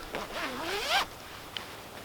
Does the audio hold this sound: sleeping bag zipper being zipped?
yes